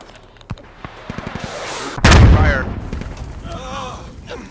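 Combat gunfire in the Squad game during a vehicle battle: a few scattered shots and a quick run of rounds, then one big booming blast that rumbles and fades.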